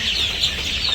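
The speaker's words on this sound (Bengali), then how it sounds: "এই বছর অনেক এগুলো হলো কোয়েল পাখিও আছে, মুরগিও আছে।" Quail and chickens cluck and chirp together in a small flock, short, high, overlapping calls over a constant background murmur.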